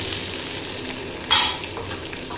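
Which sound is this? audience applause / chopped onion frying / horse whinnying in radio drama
chopped onion frying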